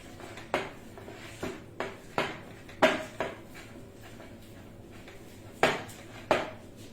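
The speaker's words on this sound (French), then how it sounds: "Et je continue à bien remuer pour bien intégrer mon sel, mon beurre" A utensil stirs butter and salt together in a bowl to a creamy texture, making a series of irregular, sharp clinks and scrapes against the bowl at close range, with no talking.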